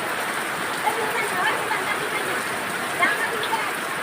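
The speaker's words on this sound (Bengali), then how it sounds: "দেখেন বাংলাদেশে প্রচুর বৃষ্টি হতেছে" Heavy rain pours steadily in Bangladesh, a dense even hiss with a few faint, brief sounds over it and no clear talk.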